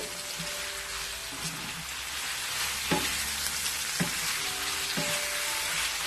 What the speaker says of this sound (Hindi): 1-2 मिनट मैंने इसको फ्राई किया है गोश्त को